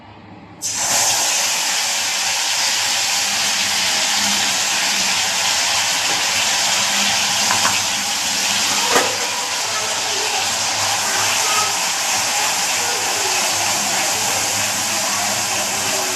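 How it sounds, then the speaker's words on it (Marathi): Masala spice paste of ginger and garlic goes into hot oil and sizzles loudly, a sudden broad hiss that holds steady and close for the whole stretch with no talking. "तर हा बघा मी काढलेला मसाला मी तेलामध्ये टाकणार आहे."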